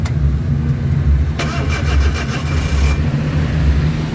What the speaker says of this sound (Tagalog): So check natin, start yung makina.